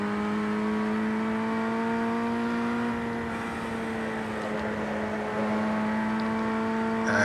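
Open-wheel FF1600 race car engines in the iRacing sim at Lime Rock Park drone steadily at high revs, a close rival car sitting right behind, with pitch shifting slightly through the run and no talk.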